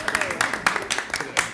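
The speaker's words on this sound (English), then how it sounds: "There's the clap." Scattered clapping in a council chamber during a mayor and council meeting, several sharp claps in an uneven burst close by, with a little background murmur.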